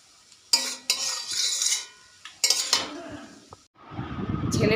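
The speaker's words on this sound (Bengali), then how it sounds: "একটু নাড়াচাড়া করে গ্যাস অফ করে দেবো।" Chowmein seasoned with Maggi masala is stirred in a frying pan on a gas stove, giving bursts of metal spatula scraping and clinking against the pan over a soft sizzle, separated by short pauses.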